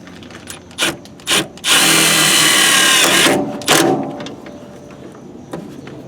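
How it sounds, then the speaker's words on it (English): A power drill drives a self-tapping screw while a fuel pressure regulator is installed on a car, beginning with two short bursts and then a steady, loud whir of about one and a half seconds. A few clunks follow. "We're going to put the self-tapper in here."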